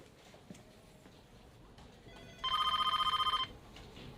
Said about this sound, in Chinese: 电话在响。